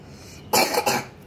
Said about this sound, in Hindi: आपको खांसी हो रही है।